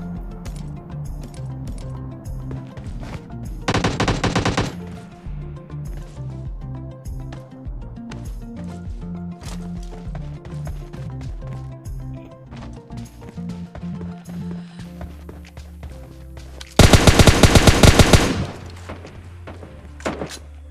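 Two dense, loud bursts of rapid gunfire from PUBG Mobile Lite, a short one early and a longer one near the end, over a steady layered musical background.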